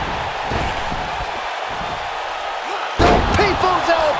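Wrestling arena crowd roars and cheers loudly throughout, swelling sharply near the end as a People's Elbow drop from the Rock lands on the mat; the impact itself is buried in the continuous crowd noise, with whistles and shouts on top.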